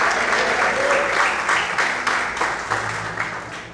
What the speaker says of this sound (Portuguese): Vamos aplaudir o Deus nesta manhã